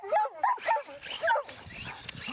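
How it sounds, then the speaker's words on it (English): Several dogs bark and yip in short bursts while chasing a running Optimus XL RC basher truck with a cracked frame outdoors, the barks fairly close and loud, fading into rougher background noise. "Dogs are still chasing it."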